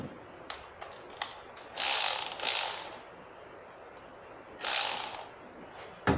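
A ratchet with a deep-well socket works an alternator bolt on a 2005 Scion xB, giving short ticking clicks and a few longer rasping ratchet runs, close and fairly loud.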